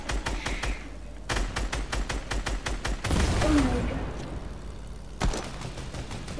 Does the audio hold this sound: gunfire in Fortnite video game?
yes